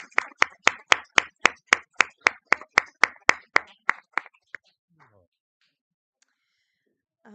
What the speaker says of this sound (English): So help me give a round of applause to Christina